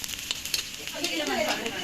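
Kebab meat and onions frying in a pan while a spatula stirs them, with a steady close sizzle and scraping strokes that build toward the end.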